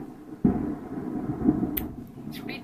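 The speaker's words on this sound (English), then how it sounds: "It's really thundering out there now." Thunder outside during a storm, a low rolling rumble that starts abruptly and swells again before fading, heard faintly from indoors.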